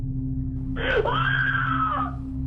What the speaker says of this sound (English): contend the scream was merely a sound effect